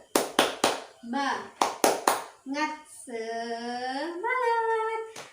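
The 'tepuk semangat' clapping chant during an Islamic children's lesson: sharp groups of two and three claps alternate with a chanting voice, which finishes on a long drawn-out sung word.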